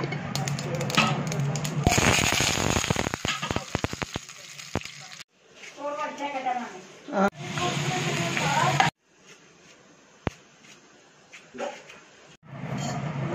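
Mustard seeds sputter and pop in hot oil for a Kerala raw banana peel and cowpea thoran, making dense crackling bursts that give way to quieter sizzling with short gaps, while a voice talks over parts of it.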